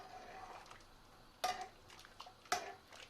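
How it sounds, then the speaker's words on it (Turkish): A spoon stirs salted water in a pot and scrapes against it, giving two distinct metallic clinks and a few softer taps against a faint background hiss. "Şöyle bir kaşıkla bir karıştıralım."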